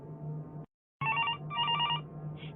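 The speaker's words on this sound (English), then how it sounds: "answering the phone until the phone rang again" A telephone rings in two bursts of electronic trilling after a short silence, close and clear above a low steady hum, with no talking.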